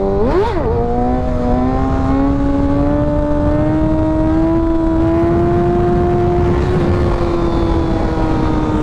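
A 600cc sportbike engine blips, then holds a loud, steady, slowly rising rev in third gear during a wheelie, close to the microphone with wind rush, easing off near the end; no one speaks.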